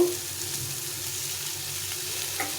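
Ground masala paste sizzling in hot oil and ghee in a pan, a steady close crackle and hiss running throughout with a faint stir near the end, no talking.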